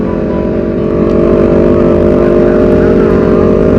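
Several motorcycles on a Sunday morning group ride, eight bikes together, their engines droning loudly and steadily up close with layered exhaust tones.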